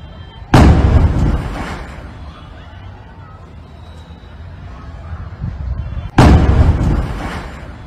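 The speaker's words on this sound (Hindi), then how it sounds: "किसी तरह अचानक घर में आग लग गई और सिलेंडर जोरदार धमाके के साथ पड़ गया।" Two heavy blasts from a gas cylinder exploding in a house fire, each a sudden loud boom with a long rumbling decay, spaced about five and a half seconds apart, with low background noise between them.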